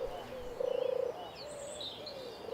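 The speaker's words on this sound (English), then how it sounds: "Its presence is usually announced by the male's distinctive calls, best heard early in the morning. This is a gentle purring sound" Male turtle dove giving its gentle purring call, a soft rolling trill held for about half a second, close and clear over faint background birdsong and low ambient hiss.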